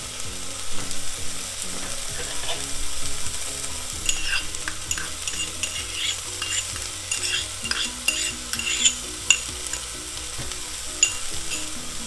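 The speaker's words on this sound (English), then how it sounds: "And now we're going to add in our crushed garlic." Crushed garlic sizzles in a pan for mushroom soup while a utensil stirs and scrapes, with steady frying crackle and a few sharp clicks.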